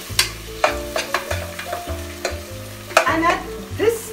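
Turmeric powder and jeera stirred and fried in a pan, a rhythmic series of spoon scrapes and knocks over a low sizzle, close and alone.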